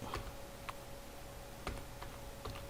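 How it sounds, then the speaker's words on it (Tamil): Sparse, faint key presses on a computer keyboard while entering text into an Excel spreadsheet, a handful of soft clicks spaced irregularly over a low steady background hum. "இப்போ நான் டோட்டல்னு டைப் பண்ணுறேன்."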